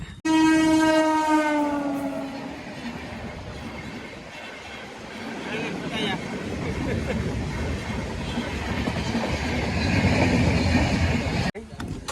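A train arrives with a loud, sustained horn blast at the start, followed by the rumble and clatter of wagons rolling past at a station, with people talking faintly underneath.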